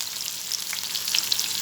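Food fries in a pan with soy-based ingredients, a bright, close, continuous sizzle with small crackling pops, heard alone without talk.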